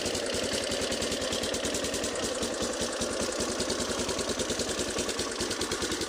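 A junkyard Warrior 350 engine with a cracked, damaged exhaust baffle idles steadily after starting, a close, loud, rapid even chugging that runs without a break and with no talking over it.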